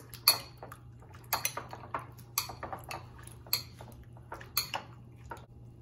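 Shrimp ceviche with clamato and shrimp broth being stirred in a bowl, a string of sharp spoon-on-dish clinks and taps in an irregular rhythm, close and fairly quiet over a low steady hum.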